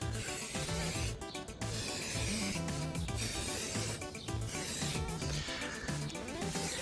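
Spray can hissing in bursts as a fine mist of tint is applied to Nissan 350Z rear light lenses, with short pauses between passes.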